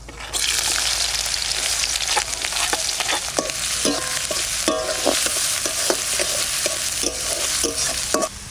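Chopped onion frying in mustard oil with whole garam masala and dried chillies in a kadai, a loud, dense, close sizzle with regular scraping stirs throughout.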